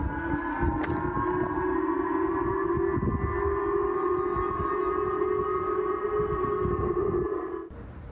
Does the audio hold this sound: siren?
yes